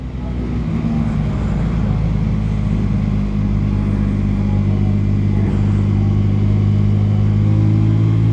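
An Orcal SK01 125 motorcycle accelerates in third gear, its engine drone loud and steady throughout with a low rumble, heard from the rider's position with wind noise and no talking.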